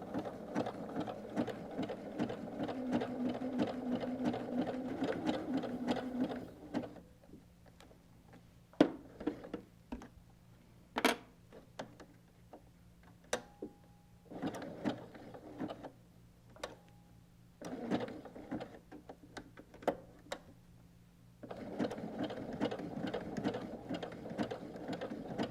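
A sewing machine stitches a quilted canvas tote with fused appliqué, running in a steady whirring burst, then pausing with sparse clicks and ticks of the mechanism before stitching resumes near the end.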